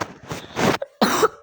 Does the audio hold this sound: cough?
yes